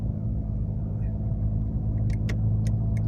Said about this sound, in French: je suis dans la voiture, je me dirige vers le col du Lotaré